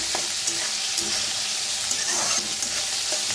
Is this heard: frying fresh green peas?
yes